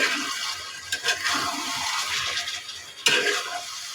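Fish curry sizzles in a pan as it is sautéed with salt and chili; a continuous frying hiss is broken by a couple of sharp utensil clanks against the pan.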